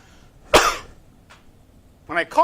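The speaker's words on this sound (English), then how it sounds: "So when I cough" A single sharp, forceful cough up close from a man with a heart condition, followed by a quiet pause and then a couple of short vocal sounds near the end.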